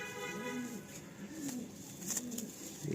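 Mature pigeon, an old bird offered for sale, cooing nearby in repeated low throaty coos over a faint background, without speech.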